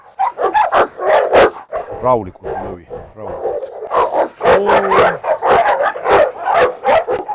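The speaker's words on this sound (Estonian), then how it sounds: "Koerad läksid hulluks." Cane Corso dogs bark and yip loudly in repeated bursts close by, with whimpering in between, while someone talks over them.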